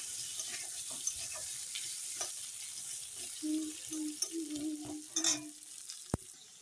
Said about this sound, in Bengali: আলু এখন ভেজে নিই